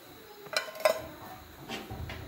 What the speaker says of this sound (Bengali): এখন একটা ঢাকনা দিয়ে বাটিটাকে রেখে দেব।